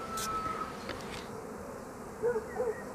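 Honeybees buzz steadily at an apiary while frames are moved during a May honey harvest, a continuous close hum with no talk.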